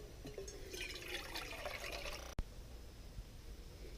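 Water carrying seeds poured through a small sieve, a soft, faint trickle lasting about two seconds, then a single sharp knock and a few quiet drips.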